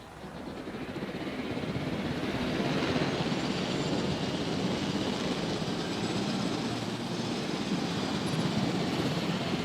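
Helicopter piloted in the video game Jurassic World Evolution, a steady loud rotor and engine roar that swells over the first seconds and then holds constant with no talking.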